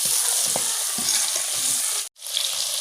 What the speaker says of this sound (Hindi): करेंगे मसाले और इस मसाले को अच्छी तरह भूनेंगे।